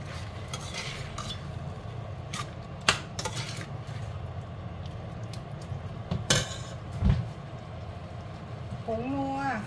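Bamboo shoots stir-fried in a pot with salt and fermented fish sauce, utensils scraping and clinking against metal in a steady rhythm, with a few sharper clanks standing out from the continuous cooking noise.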